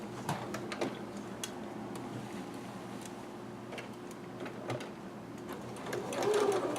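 A sewing machine stitches a kimono corner with a quiet, steady mechanical hum and light ticking, faint and close throughout.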